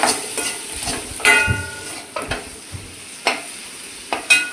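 Nigella seeds sizzle in hot mustard oil in a wok, with a steady frying hiss broken by a few sharp scraping stirs.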